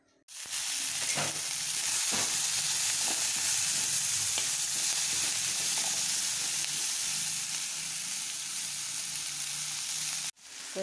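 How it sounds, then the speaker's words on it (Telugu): Tomatoes, green chillies and onions deep frying in hot oil for chutney, a loud steady sizzle and crackle that runs continuously, with faint stirring clicks underneath. "టమాటా, పచ్చిమిర్చి, ఎర్రగడ్డ ఇంకా వీటిని డీప్ ఫ్రై చేయాలి."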